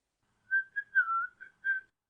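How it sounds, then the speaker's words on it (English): A lone whistler carries a short tune in clear, bright notes, a few phrases with brief pauses between them, close and fairly quiet. "He continues whistling."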